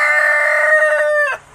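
A farm rooster crows once, loud and close, as a single sustained cock-a-doodle-doo that cuts off abruptly after about a second, with no voices.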